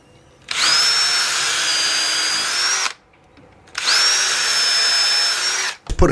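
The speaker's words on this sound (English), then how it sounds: "Put a couple of screws in each hinge to start with" A power drill driving screws into hinges fixed to the posts of a wooden gate, two long whining runs of the motor separated by a short pause, close and loud.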